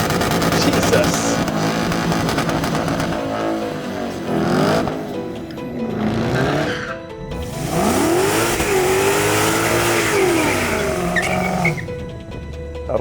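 Modified cheap V8 car at a drag race, loud engine revving and accelerating with rising and falling pitch sweeps and tire squeal, voices faintly underneath.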